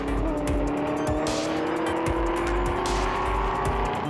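Ford Mustang race cars battling wheel to wheel on a circuit roar loudly and steadily, with engine drone, passing whooshes and sharp transient bursts layered throughout.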